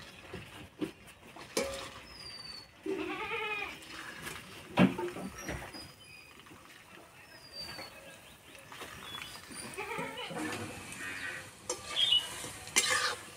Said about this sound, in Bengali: আর এইগুলো একদম লাল লাল করে ভেজে নেব